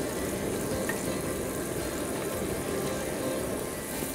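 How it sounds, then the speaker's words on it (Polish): Food frying in melted butter in a pan, a steady close crackling sizzle that runs unbroken throughout with no voices. "Czyli teraz się smaży"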